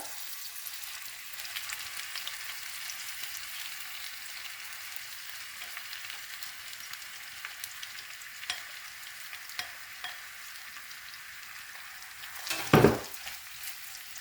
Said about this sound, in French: Alors quand l'huile a bien chauffé, je mets les oignons.